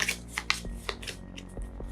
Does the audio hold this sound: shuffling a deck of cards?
yes